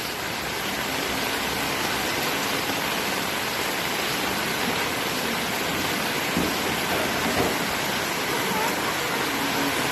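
Steady, dense rain falls outdoors as a continuous even hiss with no clear breaks, heard alone with no talking.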